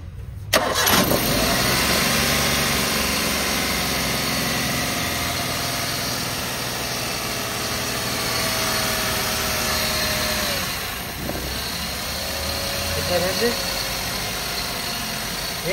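A 2017 Maruti Wagon R VXI petrol hatchback with a 998 cc engine starts up and settles into a steady mid-pitched idle. It runs close and continuous while people talk nearby.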